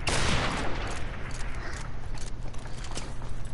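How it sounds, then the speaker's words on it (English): Desert Eagle pistol shots in a video game crack out as a dense run of gunfire, loud and close, with mechanical clatter between the reports and no talking. "I think he was having more fun just shooting his deagle."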